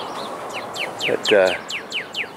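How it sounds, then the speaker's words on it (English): Wild birds sing outdoors on a rural property, a steady series of repeated chirping calls close by, with a short spoken word partway through. "and the birds are singing today like crazy"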